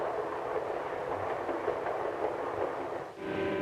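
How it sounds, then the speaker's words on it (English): A passenger train hurries through farm country on its rails, a steady close rumble and rolling clatter that dips briefly near the end before resuming, with no talk. "Now the train's hurrying through farm country."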